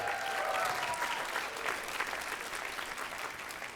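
A studio audience applauds steadily for a few seconds, clapping dense and even and fading slightly toward the end.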